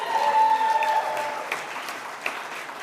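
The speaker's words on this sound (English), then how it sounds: "Please hold your applause to the end, please." Applause from a crowd at a Sports Broadcasting Hall of Fame induction fades gradually, dense clapping thinning out over a couple of seconds with a tonal hum in the background.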